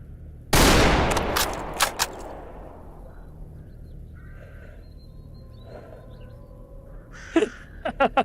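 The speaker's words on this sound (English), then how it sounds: "Bullet ripped right through the fucking bushes and went towards him." A single loud, close gunshot cracks out in the game Stalker Anomaly and echoes away, followed by a few sharper, quieter shots scattered through an otherwise quiet outdoor ambience.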